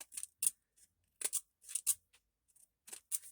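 Scissors snipping off small paper scraps while making a small notebook, a series of crisp close snips in uneven pairs and single cuts with silence in between.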